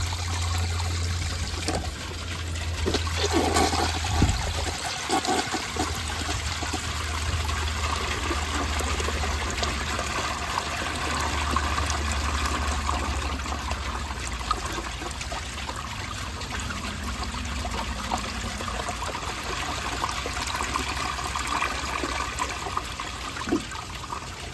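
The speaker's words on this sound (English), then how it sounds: "Here's a left side flush." A vintage 1971 round Kohler Wellworth toilet flushing, a steady rushing and trickling of water that runs for the whole stretch at close range with a low rumble underneath.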